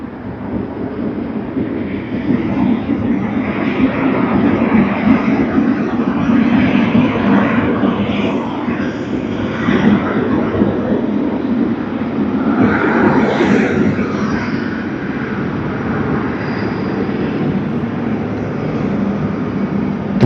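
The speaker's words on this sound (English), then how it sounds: "we should be getting the nice Boeing 777-300ER. Here you are, Singapore Airlines" A Singapore Airlines Boeing 777-300ER at Sydney Airport produces a steady, loud jet engine roar that holds for the full stretch, with a faint swelling whine partway through and no voices.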